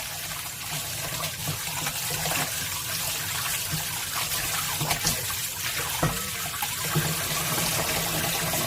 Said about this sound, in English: I think we should rinse in a cold water.